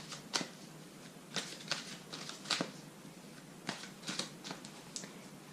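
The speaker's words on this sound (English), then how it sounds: "I put them down all the way to the left side and then very quickly fan them out" Tarot cards are set down and quickly fanned out across a surface, making a close string of soft flicking, papery ticks in small uneven clusters, with no talking.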